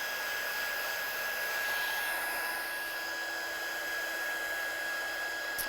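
A hair dryer runs steadily to dry a watercolour card, giving a constant close whooshing hum with a thin high whine that holds unchanged throughout, with no voices.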